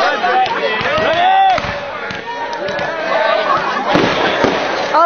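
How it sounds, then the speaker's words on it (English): Fireworks burst over a crowd at a night display, a run of pops and crackles mixed with loud cheering and shouting voices nearby as someone walks through the throng. "As you can see, there's some crazy fireworks."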